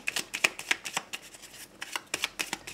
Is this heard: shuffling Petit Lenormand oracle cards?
yes